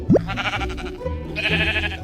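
Blocky sheep bleating in Minecraft, a few short nasal bleats from nearby, with a game sound effect and a brief break between calls.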